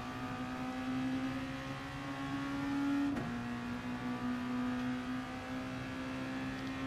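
A race car accelerating in Gran Turismo Sport, its engine holding a steady high whine that briefly breaks at a gear change midway, then climbs again, moderately loud and continuous.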